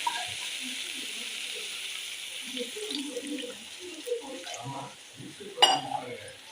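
Water is poured into a cooking pot of softened bottle gourd, a steady splashing pour with light clinks of the pot and a brief sharp knock near the end, while a voice talks softly underneath.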